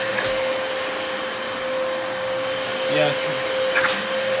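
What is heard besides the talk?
Dyson DC33 Multi Floor vacuum cleaner suction running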